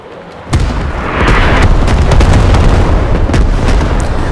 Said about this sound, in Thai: อันนี้ปืนใหญ่ไม่ใช่มอท่านี่คือปืนใหญ่เลย